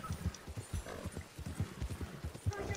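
Rapid, rhythmic hoofbeats of a horse galloping in the video game Red Dead Online, a steady run of close thuds with a faint voice now and then.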